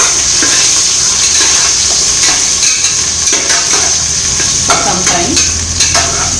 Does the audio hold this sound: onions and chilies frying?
yes